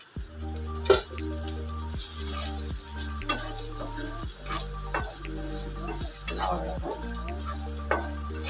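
Prawn cutlets fry in a hot pan with a steady, close sizzle and crackle, broken by scattered louder pops and occasional stirring scrapes.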